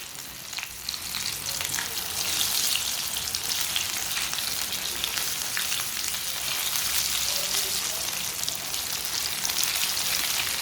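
Shami kebabs fry in a small amount of oil in a pan, giving a steady, close, dense sizzle and crackle that runs unbroken throughout with no talking.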